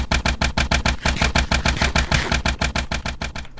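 Noisy engines chug in a modded Minecraft world, a loud, fast, rhythmic series of mechanical thumps repeating about six times a second without a break.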